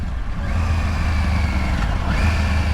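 A 2023 Triumph Tiger 900 Rally motorcycle engine runs with a steady, close, loud rumble throughout. No distinct gear change stands out.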